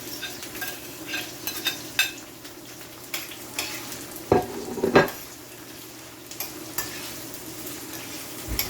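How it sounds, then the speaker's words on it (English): Sweet pepper, thyme and garlic fry in a pan for Jamaican saltfish, giving a steady close sizzle with scattered scrapes and a few sharper utensil clinks near the middle. "And allow it to fry."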